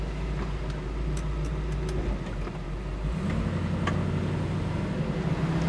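A 1967 Chevrolet Camaro drives along with a low, steady engine rumble and road noise that shift partway through, moderately close and without talk.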